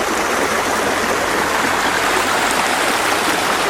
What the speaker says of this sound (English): The river keeps on going down. There's more flow as we go further down the canyon.